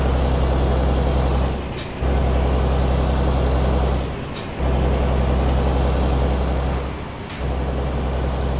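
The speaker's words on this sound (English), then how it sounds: "Truck sounds okay from the outside, but I think it definitely sounds a lot better on the inside." Peterbilt 387 truck heard from outside in Euro Truck Simulator 2, hauling an oversized load: a steady low diesel engine drone with three sharp air-brake hisses spaced a few seconds apart.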